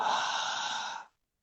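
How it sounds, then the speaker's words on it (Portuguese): A single long, audible breath in a conscious-breathing demonstration, a smooth airy exhale lasting about a second before falling to silence. "Então, usa a respiração consciente."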